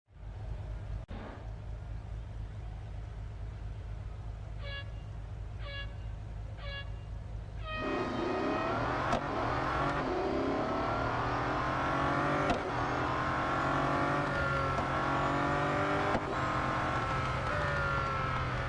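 Racing car engines in Real Racing 3 on the Nürburgring Grand Prix circuit: a low idle with short beeps, then a sharp rise into loud, continuous high-revving engine whine with gear shifts, alone without talk.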